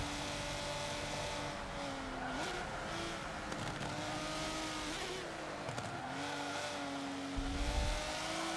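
All-wheel drive Subaru 22B race car in Forza 7, engine droning and shifting pitch through a hill climb corner, with a short tire squeal near the end and no talk.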